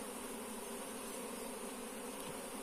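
A queenless honeybee colony buzzing inside an opened hive, a dense continuous drone of many bees, steady and close without breaks, with no voices.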